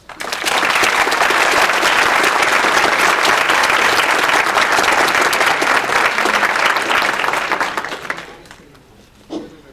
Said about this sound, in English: let's welcome him with a strong round of applause